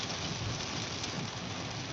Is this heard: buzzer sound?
no